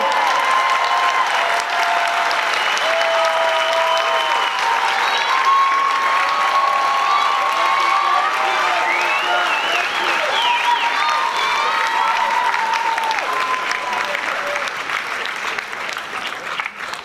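A large convention hall crowd at San Diego Comic-Con 2022 applauds and cheers the Walking Dead panel, a dense, sustained roar of clapping with scattered whoops and voices that holds steady throughout and eases slightly at the end.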